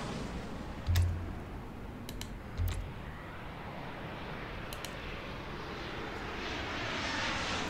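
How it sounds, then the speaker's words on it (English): Airplane engine sound from the airport-management video game Airport Madness Time Machine, a steady low whir of a fairly big plane, with two soft thumps and a few sharp clicks at moments over the top. "That's a fairly big plane."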